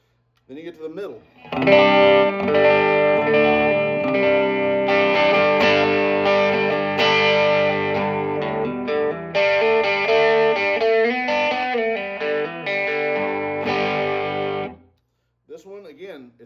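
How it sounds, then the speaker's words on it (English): Amplified Crook Custom electric guitar on its middle pickup, Strat-like in character, strumming sustained chords with a bright, glassy tone, loud and close, fading out before a few softer notes at the end. "This one, again, it's kind of like another Strat type of sound."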